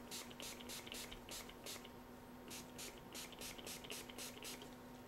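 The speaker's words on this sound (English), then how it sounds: "put a little spray on it." A cleaning spray is squirted in short, quick bursts onto a cotton mop brush used to clean a Ruger SP101 .357 Magnum revolver. The hissy pulses come in two rapid clusters, close but quiet, over a faint steady hum.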